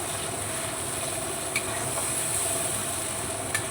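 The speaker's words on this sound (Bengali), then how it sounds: "ভালো করে কষতে থাকবো, যতক্ষণ না তেল ছাড়ে ততক্ষণ মশলাটা কষিয়ে নেবো।" Spice paste fries in oil while being stirred, a steady close sizzling hiss that runs without pause, with a couple of faint scrapes and clicks from the stirring.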